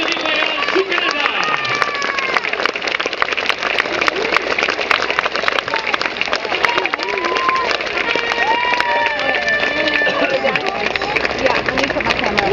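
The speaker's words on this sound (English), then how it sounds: "Let's give a big hand to the musical ride of the Royal Canadian Mounted Police" Large outdoor crowd applauding and cheering steadily for the RCMP Musical Ride, dense continuous clapping with voices and whoops mixed through it throughout.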